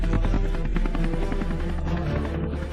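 A cartoon helicopter carrying expensive cargo shakes in strong wind, its rotor giving a steady, pulsing drone that stays loud and continuous throughout, blended with layered background tones.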